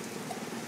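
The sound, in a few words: rain coming in through the windows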